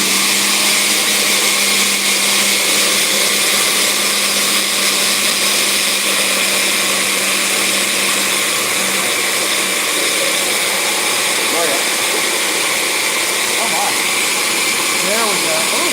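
A kitchen blender motor whirs steadily while mixing homemade dandelion lotion, a loud continuous drone whose pitch shifts toward the end as the mixture thickens.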